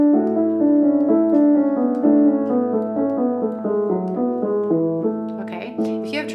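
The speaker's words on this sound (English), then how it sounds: "It's a major scale in groups of 4." A voice sings a vocal exercise running a major scale in groups of four notes, a steady stepping melodic line with no pause, ending in a brief breathy noise.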